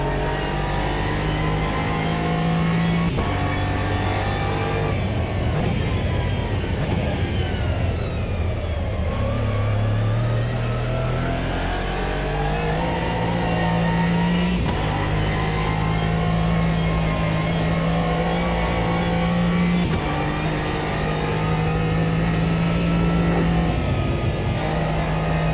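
Aston Martin GT3 race car on a qualifying out lap at Bathurst, engine droning loud and close throughout with rising and falling revs as it accelerates, shifts and builds speed, no voices.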